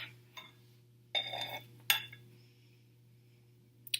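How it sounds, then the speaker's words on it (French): A metal lid clinks onto a pot in a kitchen while a natural deodorant is being made: a few sharp clinks and rattles separated by quiet pauses over a low steady hum. "on va mettre le couvercle pour que ça aille plus vite"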